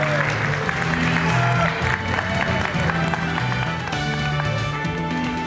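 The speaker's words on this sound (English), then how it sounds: "let's have a big cheer for our moderator" Convention audience at a Pokémon TCG Pocket panel applauding and cheering the moderator, a dense steady burst of clapping at moderate volume, with crowd noise and faint voices underneath.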